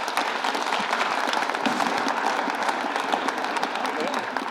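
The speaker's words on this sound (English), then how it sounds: "So if we can get one more round of applause for their contributions to what we're doing." Audience at a housing innovation summit claps steadily, a dense even round of applause filling the room at moderate level throughout.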